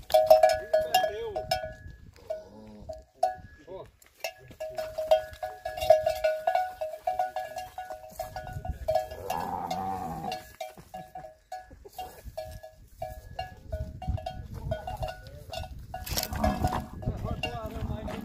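A cowbell clinks in repeated, uneven bursts in dry, drought-stricken northeastern Brazilian countryside, close and fairly clear, while someone talks over it throughout.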